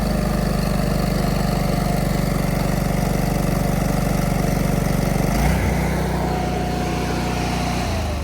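A Ditch Witch 36-inch walk-behind trencher with a fuel-injected Honda engine runs steadily and loudly up close, its low engine drone shifting pitch about two-thirds of the way through as the throttle changes.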